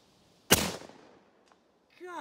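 AirForce Texan big-bore air rifle fired at 4500 PSI with a heavy 356-grain projectile: one sharp, loud close-up crack with a short decaying tail, then quiet before a voice begins.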